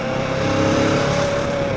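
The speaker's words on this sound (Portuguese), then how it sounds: "Então a gente vai acelerar um pouquinho mais forte hoje aqui." Kawasaki ER6n 650cc motorcycle engine revving hard under acceleration, a loud steady tone that holds close and continuous throughout, with no talk.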